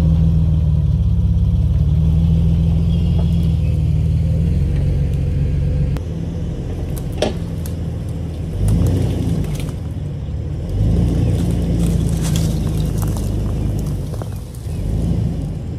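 A Jeep Wrangler TJ forestry rig idles in a steady low rumble while pulling down trees outdoors, its engine note swelling slightly at moments under occasional cracks and thuds.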